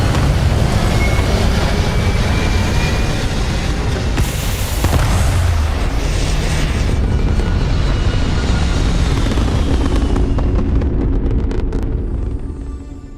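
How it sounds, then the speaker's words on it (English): Spaceship takeoff in the Starfield video game: a loud, sustained rumbling roar of engines that swells and holds across the whole stretch, with a brief brighter burst midway, fading slightly at the end. "Pressure holding. Takeoff looks good."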